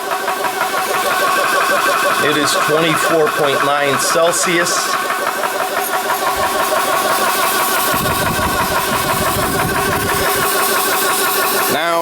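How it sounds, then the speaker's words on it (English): An air compressor runs to fill a PCP air rifle, giving a steady, loud mechanical hum with fan noise that continues throughout while a voice briefly speaks. "you can hear the compressor is started"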